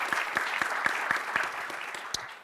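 Audience applauds at a Mayor Bowser accountability report event, continuous clapping with a few sharp rhythmic claps standing out close by, no talking.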